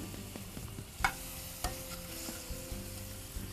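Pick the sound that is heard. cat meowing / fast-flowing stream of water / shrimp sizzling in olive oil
shrimp sizzling in olive oil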